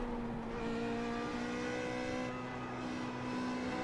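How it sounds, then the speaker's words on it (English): A race car engine in the iRacing sim drones steadily and close for the whole stretch, holding a constant pitch with a slight shift partway through, no speech over it. "This car sounds okay in iRacing"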